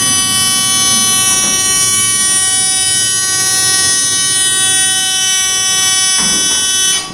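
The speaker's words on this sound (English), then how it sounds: "Why is that wired to the buzzer?" A ThyssenKrupp hydraulic elevator in a Santa Clara shopping-mall parking garage sounds its buzzer in nudge mode, a loud, harsh, continuous electric drone held for several seconds before cutting off, with a few faint knocks underneath.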